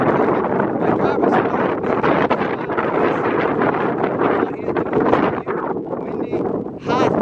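Strong, hot, hazy wind in Turkmenistan roars and buffets the microphone nonstop, a loud dense rush that swells and dips slightly and fills the whole stretch.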